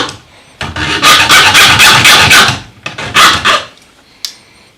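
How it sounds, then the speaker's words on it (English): A hacksaw cuts off the end of a pipe in loud, rasping back-and-forth strokes, with a long run of quick strokes, a short pause, a second burst and one final scrape. "We take our hacksaw and we just saw it off."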